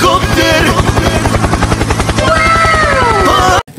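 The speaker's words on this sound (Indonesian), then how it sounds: "Kalau ini namanya helikopter." A toy helicopter whirs loudly with a fast, regular rotor chop, high electronic tones sweeping over it, before it cuts off abruptly near the end.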